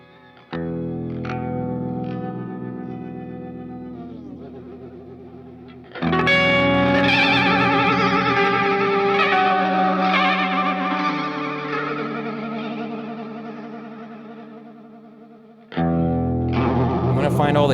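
An Old Blood Noise Excess V2 guitar effects pedal shapes sustained electric guitar chords into distorted, chorused and echoing washes, loud and continuous with a pause before the swell returns.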